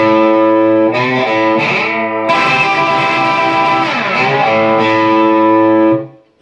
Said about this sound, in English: that is all of the slide guitar part